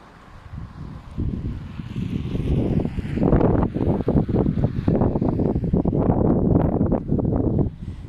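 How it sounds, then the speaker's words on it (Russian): Strong winter wind in a northern Russian town buffets the microphone in loud, rumbling gusts that build and stay heavy throughout, with no voices. "Ветер сильный"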